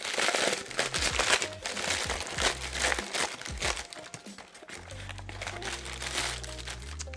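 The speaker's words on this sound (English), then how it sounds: "ball up your parchment paper pretty tight" Parchment paper is crumpled and crinkled tightly by hand into a ball for several seconds, with steady crackling close to the microphone and a low hum underneath.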